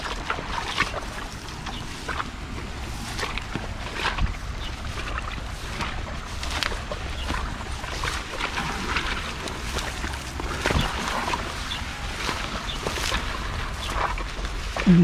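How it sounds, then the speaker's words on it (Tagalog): Feet wade steadily through shallow water outdoors during a catch-and-cook outing, soft splashing steps repeating under continuous wind and water noise, with no clear voices. "Maririnig yung lakad mo sa tubig"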